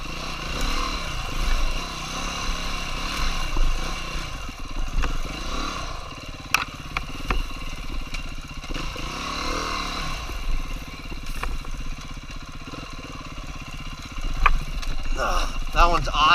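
A dirt bike's engine lugs and burbles at low revs along a single-track trail, uneven throttle pulses under a steady rumble with clattering from the terrain; someone talks over it throughout.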